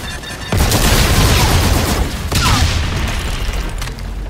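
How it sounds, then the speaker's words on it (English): Bomb blast in the Call of Duty Infinite Warfare video game: a loud close boom hits abruptly and rolls into sustained rumbling debris noise, with a second surge a couple of seconds later, no talk over it. "Bomb."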